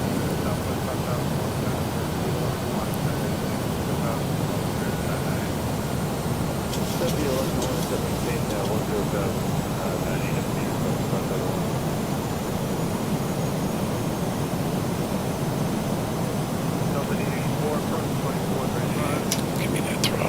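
Steady broadband roar of airliner engines in Microsoft Flight Simulator, continuous and loud throughout, with faint speech-like murmur and a few brief clicks layered over the constant drone.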